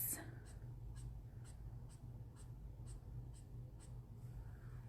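A pencil strokes back and forth on paper while feather blending in colored pencil, a quiet rhythmic scratching repeating about twice a second over a low background hum.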